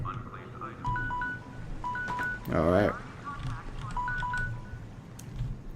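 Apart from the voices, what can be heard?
phone ringing or going off in the room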